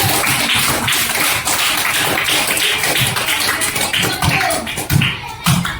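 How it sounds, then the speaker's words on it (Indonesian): Students in a classroom applaud a presenting group, a dense, loud, sustained patter of many hands clapping for several seconds, with a few voices mixed in. "Kasih tepuk tangan untuk kelompok 1."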